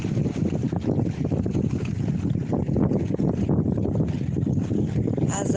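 Steady wind gusts across a lagoon full of boats, a constant rough rushing noise buffeting the microphone with no pauses.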